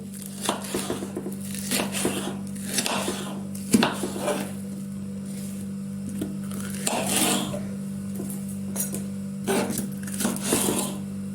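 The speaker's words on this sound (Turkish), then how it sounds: "Biberlerimi de aynı şekilde şöyle ikiden orta, ikide, ortadan ikiye bölüp iri iri olacak şekilde doğruyorum." Bell peppers and potatoes are chopped with a knife on a cutting board in a home kitchen, giving soft irregular cutting taps and board knocks over a steady electrical hum, with no talk.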